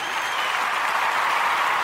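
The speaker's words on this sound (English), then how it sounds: "applaud you today." Applause on a morning religious radio program, a short, even burst of crowd clapping, dense and continuous without any talk.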